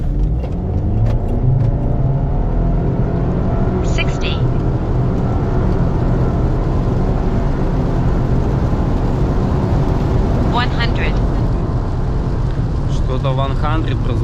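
A turbocharged Subaru Forester SK5 with an aftermarket exhaust drones steadily from inside the cabin while driving, a continuous low engine and exhaust rumble with road noise, and someone talks over it now and then.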